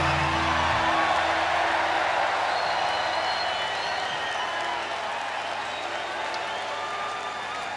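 A large indoor concert crowd at a show in Reading, PA, applauds and cheers in a steady dense wash of clapping and whoops that fades slightly over several seconds, with a low held musical tone underneath early on.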